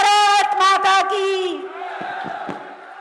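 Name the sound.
crowd applauding and chanting at a political rally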